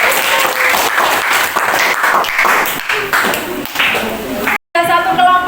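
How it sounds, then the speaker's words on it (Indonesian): A class claps for a presenting group, a dense patter of hand claps with voices mixed in, cut by a brief silent gap near the end before more chatter and clapping resume. "tepuk tangan untuk kelompok."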